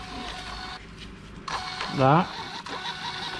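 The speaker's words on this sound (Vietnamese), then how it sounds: "Hóa đơn ra, in chữ ra rất là rõ nét và rất là nhanh nha." PT210 thermal receipt printer printing a kitchen receipt, a short whirring feed with rapid buzzing bursts close by, while someone talks over it.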